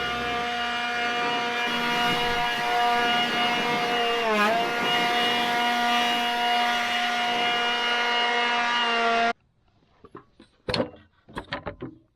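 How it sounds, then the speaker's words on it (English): A compressed-air blower hisses steadily while dust is blown off a farm tractor outdoors, a loud continuous rushing with a brief pitch dip midway, cutting off abruptly, followed by a few scattered knocks and clatters. "I'm going to blow some of the dust off this tractor before it rains."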